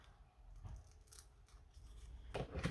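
Soft scissor snips trim the material of an ink blending tool to size. The cuts are quiet and close, a few brief strokes with a pause between them, and no one speaks.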